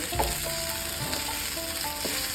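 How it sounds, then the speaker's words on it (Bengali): Pasta being stirred through red pasta sauce in a pan for a quick red sauce pasta, with a steady close sizzle and soft scraping strokes running throughout. "প্রথমে দিচ্ছি পাস্তা সসটা, মিশিয়ে নিচ্ছি ভালোভাবে"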